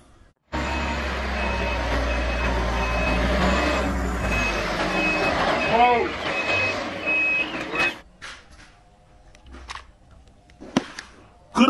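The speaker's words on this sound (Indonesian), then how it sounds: "Mixer truk." A concrete mixer truck rumbles close by with a low engine drone and repeated reversing beeps, then the engine cuts out, leaving sharp clanks and quieter mechanical knocks.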